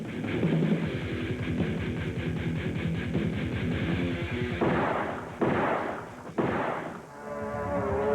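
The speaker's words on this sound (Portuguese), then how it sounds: "Bombas, pedras, tiros." Dense, rapid bursts of gunfire rattle continuously, punctuated by several heavy booming blasts near the end, loud and chaotic with no voices.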